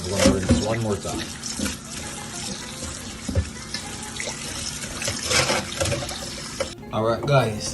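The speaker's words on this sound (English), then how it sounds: "Run more water. We're going to rinse one more time." Tap water runs steadily into a sink as sea moss is rinsed, a continuous splashing and gurgling close by, with people talking over it throughout.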